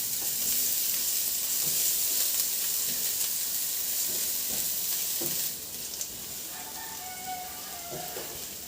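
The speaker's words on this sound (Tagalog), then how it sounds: "mapainit na ako ng mantika at igisa ko na yung bawang" Garlic sautéing in hot oil in a wok, a steady dense sizzle that runs loud and continuous, then drops slightly softer midway with a few faint clinks, no talking.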